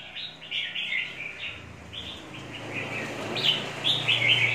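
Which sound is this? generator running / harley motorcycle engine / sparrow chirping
sparrow chirping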